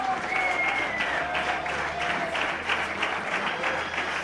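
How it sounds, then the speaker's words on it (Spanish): Steady applause from a gala crowd welcoming the women's Spanish motocross winner, continuous clapping with a faint tonal line of music or a voice beneath it. "Fuerte aplauso"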